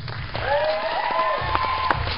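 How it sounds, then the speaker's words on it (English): Audience applause at a hip-hop event, steady clapping and some crowd noise under a sustained melodic tone, with a few sharper claps standing out near the end. "let's go ahead and give hip-hop Hope another round of applause"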